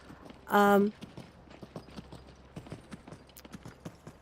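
Horse hooves clip-clop steadily and faintly in Skyrim VR, a soft, even walking rhythm, with a short, loud tonal game sound near the start.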